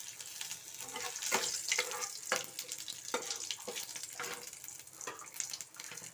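Dry red chillies crackle and spit in hot oil while a Bengali cauliflower dish is started, a steady close sizzle broken by repeated sharp pops and bursts throughout, with no talking.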